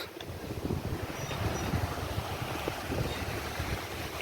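Steady wind blows across the microphone at a mini farmhouse in Limbdi, a continuous low rumble and buffeting with no voices.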